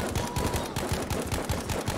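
Rapid gunfire in a combat exchange, a dense, close string of shots cracking in quick succession without pause for two seconds.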